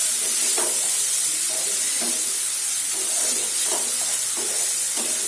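Tomatoes sautéed in a pan with turmeric for a mixed vegetable curry of spinach, cauliflower and potato, giving a steady close hiss with soft repeated scrapes of a stirring spoon.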